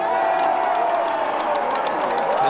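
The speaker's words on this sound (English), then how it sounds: "And the crowd is getting loud here" A stadium crowd at a Super Bowl football game cheers loudly, a steady, dense roar of voices with scattered shouts sustained throughout.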